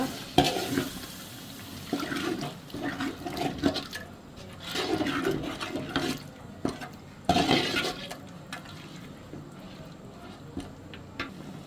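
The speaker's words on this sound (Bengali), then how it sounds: "টক দই লিকুইড দুধ এটা দিয়ে আমি একটু কষাই নেব এখন মাংসটা" Beef sautéing in a pot with yogurt and milk for a biryani, repeated bursts of stirring and bubbling sizzle that swell and fade at a moderate, fairly quiet level.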